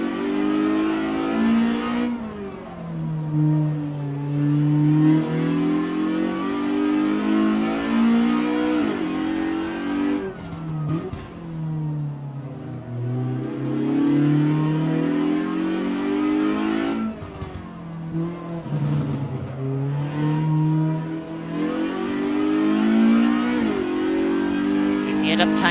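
A Jide 1600 S race car engine in Assetto Corsa at Ahvenisto, revving hard and dropping through gear changes in repeated rising sweeps across a lap, loud and steady with someone talking over it.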